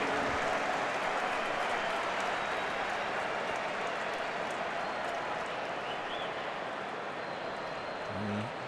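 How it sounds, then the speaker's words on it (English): Arsenal supporters in a large stadium crowd give a steady, continuous wash of applause at a match against Barcelona, heard at a distance and holding at an even level throughout. "warm applause from a large contingent of Arsenal supporters for the skipper"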